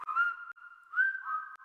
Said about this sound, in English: We'll even whistle while we work.